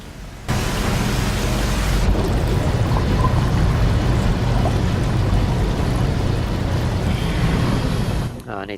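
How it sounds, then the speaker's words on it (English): Water rushes into a sealed chamber in the underwater horror game SOMA as a steady, loud, broadband roar that starts abruptly and holds until it tapers off near the end. "it's going to refill with water now"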